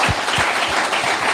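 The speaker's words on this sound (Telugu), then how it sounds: "చప్పట్లు కొట్టు" During a Telugu sermon, the congregation claps hard in a dense burst with a few distinct rhythmic beats underneath, filling the hall.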